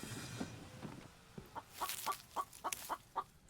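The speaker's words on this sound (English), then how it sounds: "What's a chicken doing up here?" Chicken clucks in the survival game The Infected: a run of short, fairly faint clucking notes spaced unevenly over a quiet background, with no talk.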